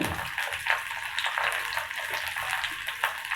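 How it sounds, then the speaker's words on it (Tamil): Steady sizzling and crackling of onions sautéing in a little oil, with brief sharper spits, close by and continuous without any talking. "அந்த ஒரு வெங்காயத்தை நறுக்கி இதில் சேர்த்துக்கிறேன் எண்ணெயில் கொஞ்சமாக எண்ணெய் விட்டு வதக்கிறதுக்கு"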